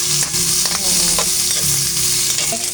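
Onion sautéing in hot oil with garlic, a loud continuous sizzle and crackle close by with scraping stirs, no voices.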